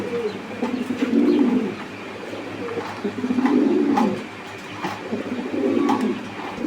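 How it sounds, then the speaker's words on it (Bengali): Pigeons at a pigeon farm coo in slow repeated low rounds, three swelling bouts close by, with faint background chatter and small rustles between them. "এখানে আরও এক জোড়া কবুতর"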